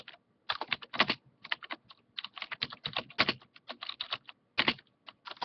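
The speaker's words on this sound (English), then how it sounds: "you type it down yourself" Fingers type code on a computer keyboard in quick irregular bursts of crisp key clicks with brief pauses between runs, close and clear, with no one talking.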